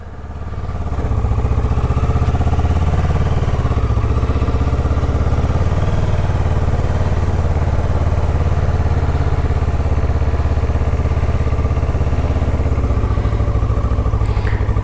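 A 2015 Kawasaki Ninja 650R motorcycle running steadily under way, a loud, close, continuous engine drone with a low throbbing rumble and constant wind noise, no voices.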